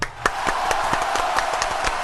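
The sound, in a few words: round of applause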